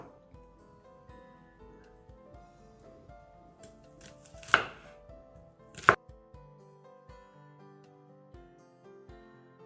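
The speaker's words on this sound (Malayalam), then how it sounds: "കട്ട് ചെയ്യാൻ തുടങ്ങാം." Knife chopping vegetables for Hakka noodles (spring onion, bell pepper, mushroom, carrot, garlic) on a board, with steady soft taps under a low musical background and two sharp, louder chops standing out midway.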